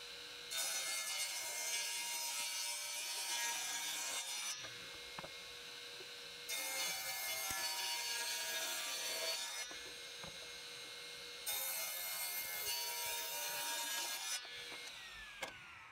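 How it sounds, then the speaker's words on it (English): Wooden boards are ripped to width against the fence of a power saw in three long cutting passes, each a loud, bright rasping whine lasting several seconds, separated by quieter gaps of the saw running free. "I'm going to take the first edge and use it as reference on my fence to cut everything down to width"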